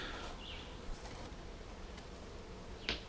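Honeybees in an opened backyard hive during a summer inspection, the colony less active than neighbouring hives, give a faint, steady low buzzing drone, with a couple of brief louder sounds near the start and end.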